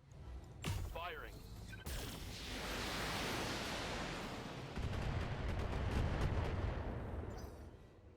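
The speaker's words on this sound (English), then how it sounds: "just launch all of our long-range weaponry at it" Mech long-range weapons in a video game fire at a turret in a heavy rumbling barrage of booms and roaring blasts, with a louder surge partway through, accompanied by a brief voice and radio-like chatter near the start.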